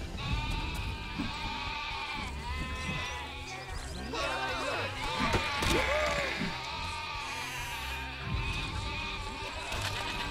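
Several wobbly sheep bleats from the video game Overlord, clustered mid-clip and fairly close, layered over background game noise with someone talking beneath them.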